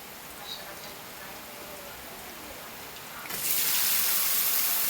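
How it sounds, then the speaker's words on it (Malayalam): Rain falling outside a home kitchen, a steady broadband wash that swells louder near the end, with no talk over it. "ഒരു ചെറിയ ഡിസ്റ്റർബൻസ് ഉണ്ടാവും കേട്ടോ ഒച്ച മഴയുടെയാണ്"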